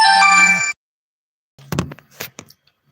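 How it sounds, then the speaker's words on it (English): A phone ringtone from an incoming call, a bright tonal electronic ring that plays briefly and cuts off, followed after a pause by a few short knocks and clicks. "Sorry, I had a phone call."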